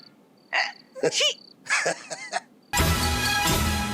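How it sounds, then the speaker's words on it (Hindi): Two people hiccup in a row of short, sharp voiced gulps, some with a rising squeak, before a loud, dense burst of sound takes over. "जैसे अपन दो जनन को हिचकी आ रही है।"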